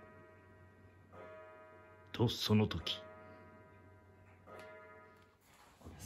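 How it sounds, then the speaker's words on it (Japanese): Clock in a quiet Japanese inn sounds amid near-silence, with a louder burst of tones near the middle, while a voice narrates briefly. "時計の音が 静かな館内に鳴り響く"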